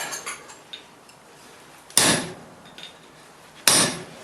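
A hammer strikes hot steel on the edge of an anvil while forging bolt jaw tongs, two loud ringing blows spaced well apart with lighter taps and scrapes between them, close by.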